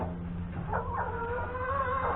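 A hen clucking close by in a few rising and falling calls over a low, constant background hum.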